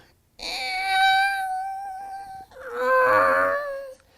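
A voice imitates a waterphone, steel trays with rods bowed, producing two eerie, wavering sustained tones with sliding pitch, close and fairly loud.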